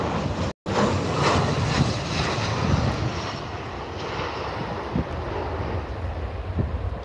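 Ryanair airliner arriving at Liverpool Airport, heard from outdoors as a steady, loud broadband engine roar with wind buffeting the microphone, holding throughout apart from a brief dropout near the start.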